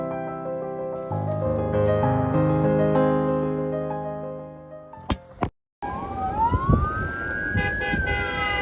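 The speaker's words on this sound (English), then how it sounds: "First came the sirens." Emergency vehicle sirens wail at night near a van wild-camping in Ireland, with a loud rising and falling tone that fades and then returns under passing traffic noise.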